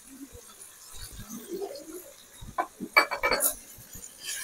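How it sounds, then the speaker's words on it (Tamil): Ginger garlic paste goes into a frying pan for mutton brain masala and is stirred with a metal spoon, making close scrapes and clinks against the pan, with a quiet sizzle underneath. "அடுத்தது இஞ்சி பூண்டு பேஸ்ட்டு, அதையும் போட்டுக்கிறோம்."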